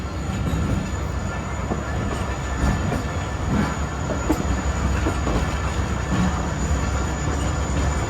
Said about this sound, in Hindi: जी पर इधर से भी ट्रेन निकल गई है।